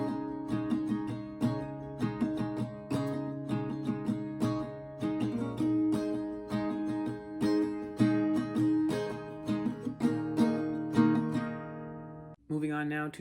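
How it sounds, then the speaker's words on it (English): Acoustic guitar playing the first half of the pre-chorus of a song, strummed chords ringing steadily and close for about twelve seconds, alone, ending in a brief pause and a final strum. "So the entirety of the first half of pre-chorus 1 would sound like this."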